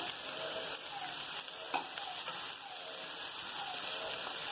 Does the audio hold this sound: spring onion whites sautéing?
yes